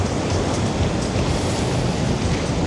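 Atlantic Ocean surf at Los Cristianos beach in Tenerife washes in as a loud, continuous broadband roar of breaking waves, close by and steady, with no voices over it.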